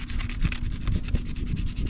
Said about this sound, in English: Get some sandpaper.